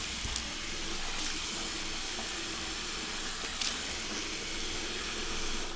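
Water runs steadily at a bathroom sink while a face is splashed wet before a wet shave, a continuous close hiss with a few faint splashes and no talking.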